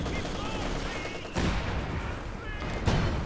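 Heavy mortar fire in Company of Heroes 2 during a 2v2 match, shelling a forward retreat point: dense battle noise with two heavier impact thumps, one near the middle and one near the end.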